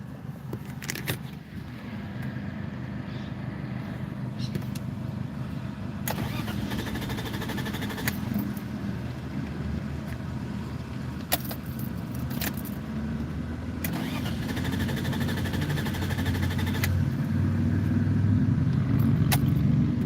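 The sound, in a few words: rare BMW car engine cranking but not starting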